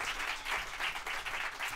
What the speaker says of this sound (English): Y'all give a big round of applause